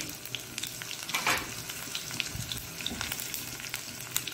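Crushed garlic sizzles steadily in hot oil in a pan for a Mangalore-style wild mango curry, a close continuous crackle with occasional sharper pops and stirring.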